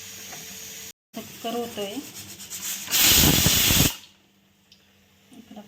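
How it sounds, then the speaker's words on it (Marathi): Puris frying in hot oil in a home kitchen: a loud, close, rushing hiss and sizzle lasting about a second, after brief scraping and someone speaking, then fading to quiet. "थोडे तळायचं काम चालू आहे. छान फुगताय"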